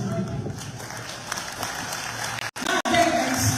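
An audience applauds the President at a live event with sustained, dense clapping and crowd noise, broken by a couple of brief dropouts.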